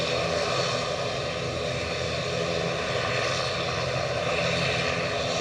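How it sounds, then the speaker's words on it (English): An Aer Lingus ATR turboprop departs Edinburgh Airport for Dublin, its engines giving a constant, loud broadband roar that drowns out everything else for the full length. "the noise that was drowning me out is indeed that ATR to Dublin"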